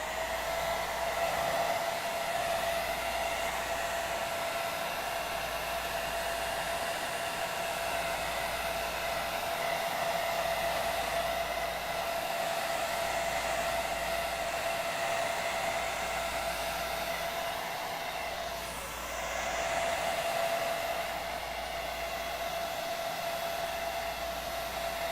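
A hair dryer blows steadily to dry paint on a model Borg head, a constant close whir with one brief dip in airflow near the end and no voices.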